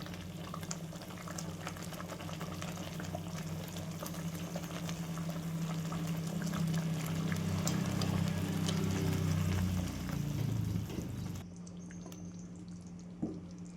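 Palak paneer gravy simmers in a pan, restaurant-style, with a steady low bubbling and occasional soft pops that swell slightly louder before settling, close and continuous with no voices.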